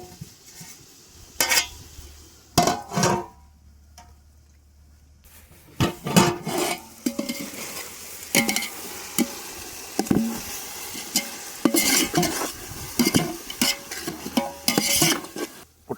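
Curry leaves sizzle and crackle in a pot for a mushroom biryani, with a metal spoon stirring and scraping in bursts. The frying starts quietly after a few sharp clatters, then grows into a busy, fairly loud spluttering with repeated stirring knocks.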